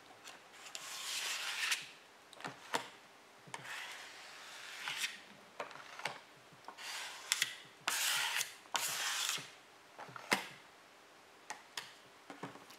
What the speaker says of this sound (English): take your card or something to scrape with, whatever you're using, and you're just going to scrape that foam straight off